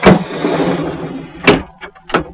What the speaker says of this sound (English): So brings the whole bed of the truck out.